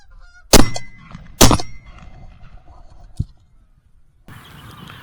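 Two loud honks from geese flying overhead ring out close together, followed by a fainter call and light background noise, in a farm setting in the morning.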